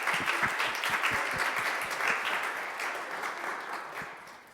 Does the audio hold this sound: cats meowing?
no